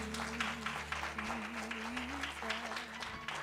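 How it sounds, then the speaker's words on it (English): A church congregation at a Sunday service clapping hands in praise, a dense continuous patter of many claps close by, with a steady sustained organ or keyboard tone underneath. "Come on, give God a hand clap of praise."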